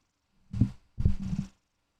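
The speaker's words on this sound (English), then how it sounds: "She's purring." A purring cat, heard as two soft, low rumbling bursts close by, the second longer than the first, with quiet between.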